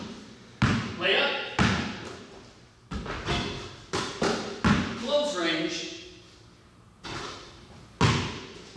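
A basketball bouncing and thudding during layup shots, a handful of sharp, spaced impacts on a court mixed with a person talking between them.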